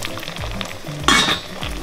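Parboiled chicken salami sizzles in a pan, with a loud burst of frying as it drops into the hot fat partway through, then a steady sizzle with light utensil clinks.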